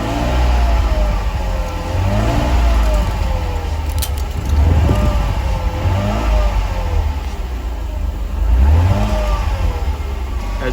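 A Mercedes-Benz 300SL R129 classic that has sat unused for a long time runs steadily up close, its engine note rising and falling in a few rev swells over a continuous rumble, with a brief metallic clink partway through and no talking.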